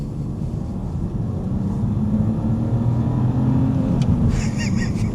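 An old BMW car engine pulling hard in second gear, a steady close drone from inside the car that builds slightly in loudness, with road noise and no talk.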